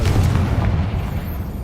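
A deep, rumbling blast from the Confringo blasting spell in Hogwarts Legacy, loud and close, booming at the start and then rolling away over a second or so.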